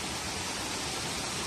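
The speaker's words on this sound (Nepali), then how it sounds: "यहाँ चाहिँ खोला रहेछ" The Berje river, a small stream, flows steadily, giving a continuous broadband rushing wash with no breaks. It is heard alone at moderate level.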